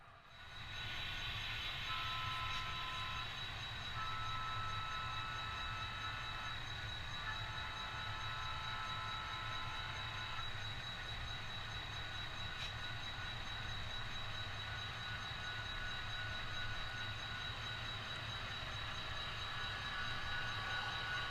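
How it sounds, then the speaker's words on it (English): A model railroad train runs along a layout, a steady, continuous mechanical hum and rumble with a faint high whine on top, close and unbroken throughout, with no talking. "The dispatcher has put train SC32, a manifest freight, onto the siding to allow train number 2 to pass."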